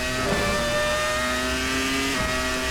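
A 3-litre V10 race car at full throttle in a racing game at Imola, a loud, sustained high-pitched engine scream with steady harmonic whine and a brief pitch dip near the end, no talking.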